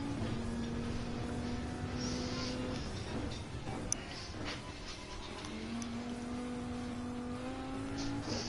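A car driven around a race track in a racing video game, its engine holding a steady tone that climbs and shifts with gear changes, steady and continuous throughout.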